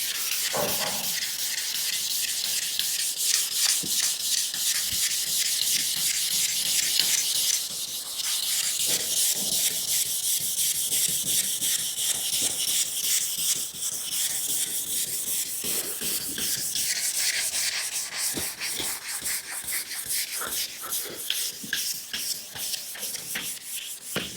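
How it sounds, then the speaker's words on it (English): Hand sanding on the gunwales of a NAB 17 boat during final prep before high build epoxy, heard up close as a continuous rhythmic rasping rub of back-and-forth strokes that carries on for the whole stretch with no talking. "If I can feel anything at all, I'll sand it."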